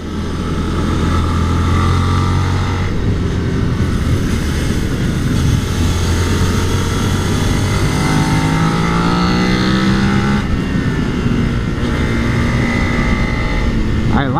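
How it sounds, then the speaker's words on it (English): Suzuki SV650 motorcycle engine howling at full throttle on a test ride, a loud sustained roar whose pitch climbs steadily as it accelerates, with wind rush throughout and no talking. "I like this scream she does when I go full throttle."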